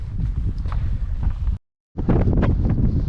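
Strong wind buffets the microphone high on a mountain during a cold ultra-trail race, a steady low roar that cuts out briefly before gusting back just as loud.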